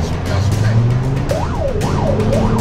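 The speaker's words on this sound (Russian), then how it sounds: "Внимание, пожарная тревога." A wailing electronic fire alarm tone rises and falls in repeated sweeps over a steady low hum, loud and close, with a Russian voice announcement of fire alarm.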